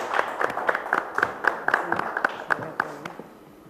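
Scattered hand claps from a small audience at a Turkish cultural program, welcoming a guest singer; the claps are uneven and moderately close, with a few louder ones, and they thin out toward the end.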